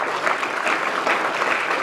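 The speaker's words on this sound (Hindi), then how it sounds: "ताली बजाएंगे इन सबके लिए।" Audience at a Brahma Kumaris spiritual lecture in Debai applauding, a steady dense wash of clapping from a large group filling the whole stretch at even loudness.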